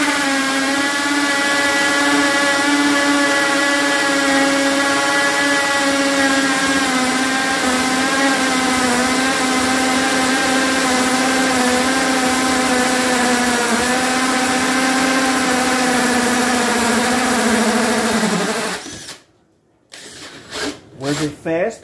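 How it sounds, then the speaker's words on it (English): A hammer drill bores a doorknob hole, a loud steady whining drone with strong harmonic tone running continuously for about eighteen seconds before cutting off abruptly, followed by brief handling noises and voices. "Hammer drill on number 2."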